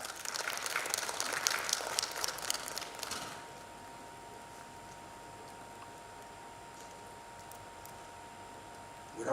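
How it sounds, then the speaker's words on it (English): A symposium audience applauds for a guest speaker: a few seconds of steady, moderately distant clapping that fades out, leaving quiet room hum. "Please give him a round of applause."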